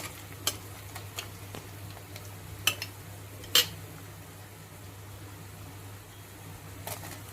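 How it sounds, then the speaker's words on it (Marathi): Chopped tomatoes are tipped into onions sautéed until pink in a pan while cooking karela bhaji, and a spoon stirs them. A few faint clicks and scrapes of the spoon sound over a quiet, steady background hum, with no one talking. "आता त्यामध्ये आपला नेहमीप्रमाणे टोमॅटो टाकणार आहे"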